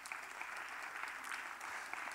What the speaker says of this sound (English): So give yourselves another big round of applause.